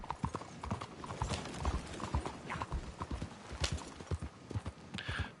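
Horse hooves clip-clop steadily in Red Dead Online, a run of quick, even footfalls with a brief whinny-like touch, moderately close and without speech.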